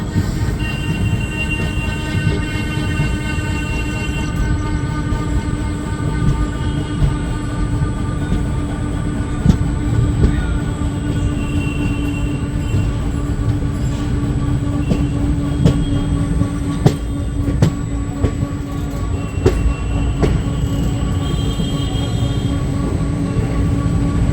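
The ICF-coach Black Diamond Express 22388 runs from Dhanbad to Howrah, a loud, steady interior rumble of rolling wheels with intermittent clicks over rail joints and faint wheel squeal throughout.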